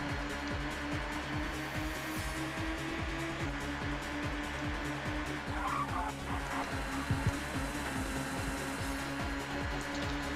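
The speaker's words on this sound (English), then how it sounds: "And one of the Nissans just spun out." Racing car tyres squeal and skid as a Nissan touring car spins out at Knockhill in TOCA Touring Car Championship, over steady, loud engine drone from the pack of race cars.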